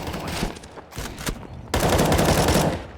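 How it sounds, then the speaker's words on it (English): Rapid rifle gunfire in a Counter-Strike match on the Inferno map, with close bursts of shots, a brief pause, then a loud sustained volley of overlapping fire. "More bullets coming his way"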